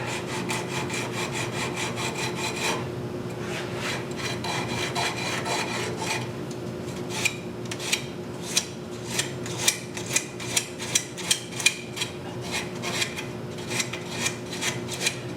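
Repeated rasping strokes of hand sanding a wooden scoop with 80-grit sandpaper, steady at first, then settling into a regular back-and-forth rhythm of distinct scrubbing passes, close by.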